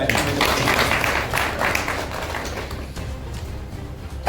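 An audience at a village gathering claps together in a dense, fairly loud burst that gradually thins and fades over a few seconds.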